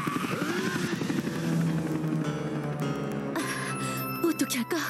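A propeller in an animated cartoon whirs and whooshes, blowing a rushing wind, with a ringing chime and musical tones mixed in and character voices talking over it.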